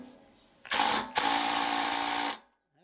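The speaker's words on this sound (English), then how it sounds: "Let's see if the impact will do it." An impact driver hammers at a stuck screw on a 30-year-old Klippo lawn mower, with two loud, close bursts: a short one, then a longer sustained run of rattling impacts that stops abruptly.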